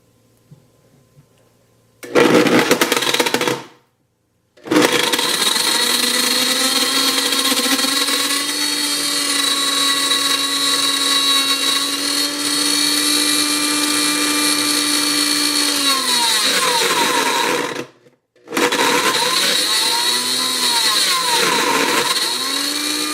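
A blender grinds a Samsung Galaxy S7 phone with a loud, steady whirring roar that holds for over ten seconds, cuts out, and starts again; brief short bursts come before the long run, and no voices are heard.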